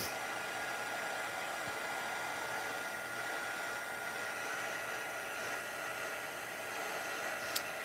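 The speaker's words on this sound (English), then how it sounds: "when you heat your embossing powder, it turns from like a gritty, kind of sandish looking thing to shiny and smooth" An embossing heat tool blowing hot air over embossing powder on a handmade card, a steady close whooshing hum that runs without a break, with a faint click near the end.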